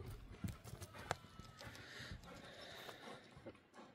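Horse at a horse market in Jalal-Abad region, Kyrgyzstan, hooves clip-clopping in an uneven walking rhythm, faint and somewhat distant with light background noise.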